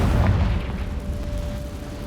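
A Confringo blasting spell in Hogwarts Legacy sets off a muffled, booming explosion that hits at the start and then fades into a low rumble.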